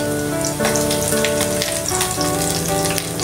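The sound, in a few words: garlic, onion and chili sautéing in a pan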